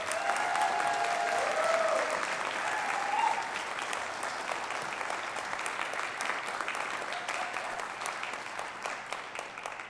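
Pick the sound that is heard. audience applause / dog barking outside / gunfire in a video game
audience applause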